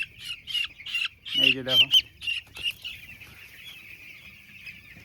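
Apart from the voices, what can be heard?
seven-day-old chicks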